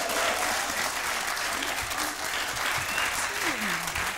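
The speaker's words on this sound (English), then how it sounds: "A round of applause for the maddest couple in the village." Studio audience applause for a couple on a British television show, a loud, dense and steady wash of clapping from a large crowd that runs the whole time without letting up.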